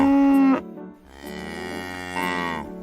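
Cows moo in a cartoon farmyard, with one long, loud, drawn-out low call followed by a second rising moo, close and clear with no talking.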